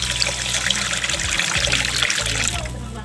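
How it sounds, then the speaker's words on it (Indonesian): Water trickles and pours steadily into a pan of sautéed spices for about three seconds, with a close, continuous splashing hiss. "Setelah itu kita tambahkan air secukupnya"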